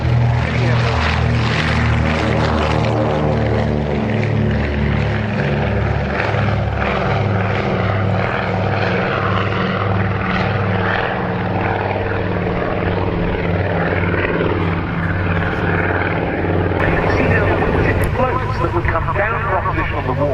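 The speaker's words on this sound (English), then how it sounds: "This was initially a pure flying boat." Loud propeller engines of an amphibious flying boat drone steadily at an airshow, a strong harmonic hum that shifts slightly in pitch as the plane passes, with no break.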